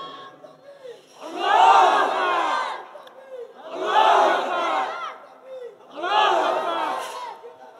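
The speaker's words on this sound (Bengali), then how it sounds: "আল্লাহু আকবার জোরে বলেন তো।" A large crowd at a religious gathering shouting takbir, Allahu Akbar, in three loud, sustained unison roars separated by brief pauses.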